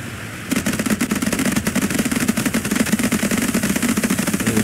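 Rapid machine-gun fire rattles continuously for several seconds in the naval combat video game Age of Water, loud and dense with no pauses.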